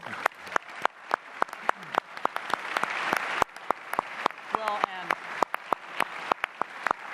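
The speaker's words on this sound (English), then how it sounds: "can we give them a round of applause?" An audience applauds at a televised Walker–Evers governor debate at UW-Milwaukee, with sharp, scattered individual claps standing out over a steady wash of clapping and a voice talking underneath.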